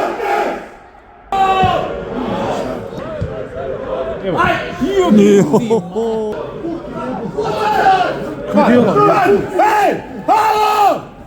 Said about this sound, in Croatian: Ovdje su se navijači Varteksa čuli ko da ih je 3000, a ne 50-ak